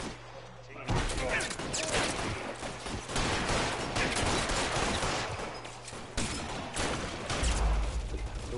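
Shootout with LAPD officers in a video game, dense continuous gunfire with sharp volleys and heavy impacts, loud and close, with scattered voices in the mix.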